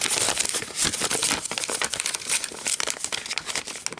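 Plastic packaging from a Hello Kitty bubble charm jewelry kit crinkles and crackles up close. The bursts of rustling keep coming for about four seconds with no talking.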